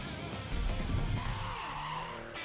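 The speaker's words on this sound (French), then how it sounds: "elle est prête à rugir, la Mustang Speed Shop 600 chevaux" A 600 hp Mustang Speed Shop drift car at the Lédenon circuit during a French drift championship round, its engine roaring loud and close as the tires skid and squeal in a sustained smear of noise.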